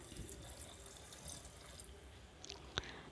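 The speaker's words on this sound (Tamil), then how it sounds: "இப்போ தேவையான அளவு தண்ணி ஊற்றிக்கலாங்க" Water pouring steadily into a pot of sambar, a soft continuous splash with a brief drip near the end, quiet and close.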